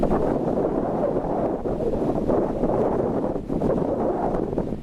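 Strong wind roars steadily across the microphone at Point Sturt, South Australia, a dense continuous rumble with slight gusty swells and no voices.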